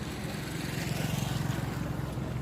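A steady low engine rumble with churning water noise as a large boat passes nearby on the Chao Phraya River at Nonthaburi, continuous and fairly loud.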